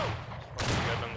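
A massed musket volley in the Civil War game Battle Cry of Freedom, with a sudden loud crack of many shots at once partway through, following a dense patch of rumbling battlefield noise.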